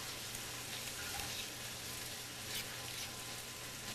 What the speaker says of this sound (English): Your chicken sounds like it's almost done because it's sizzling